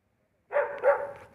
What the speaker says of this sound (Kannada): ನಾಯಿ ಬುಗಿಳ್ತಾ ಇರೋದು.